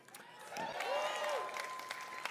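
Audience applause at the E3 2018 Bethesda presentation, a steady wash of clapping from a large crowd with a voice speaking over it.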